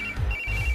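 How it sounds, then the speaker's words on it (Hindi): A phone rings with an incoming call: a brief electronic ringtone of a high steady tone over low pulsing beats, loud and close. "इस वक्त दीदी का फोन।"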